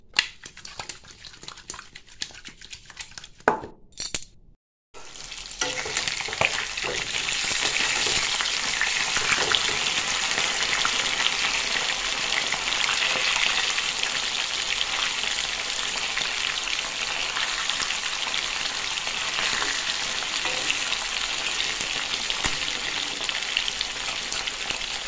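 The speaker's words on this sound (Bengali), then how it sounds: "তো মাছটা ভাজি, আগে ভাজা বসাই" Fish fries in a pan with a dense, steady hiss and crackle that starts abruptly after a few seconds of quieter handling noises and a brief gap, then continues at a constant level throughout.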